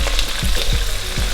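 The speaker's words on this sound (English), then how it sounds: "we're gonna go ahead and put in some onions. We're gonna let that start frying." Onions and locust beans fry in a pot for a native jollof rice base, giving a steady close sizzle with a few soft stirring sweeps and no voices.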